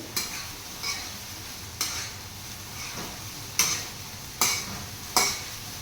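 Sabudana (tapioca pearls) cooking in a pan, with a quiet continuous sizzle and five sharp scraping stirs of a spoon against the pan at irregular intervals, close and fairly faint, with no talk.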